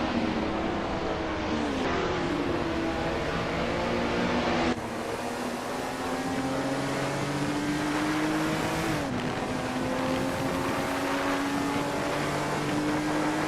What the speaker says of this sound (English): The race seems to be a tight fight among the Porsche drivers.